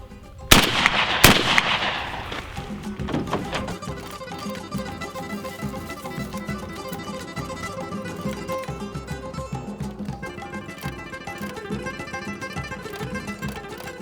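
Shotgun firing a reloaded Remington American hull, one sharp loud blast early on followed by a second report and a long ringing, echoing decay with some rattling afterward.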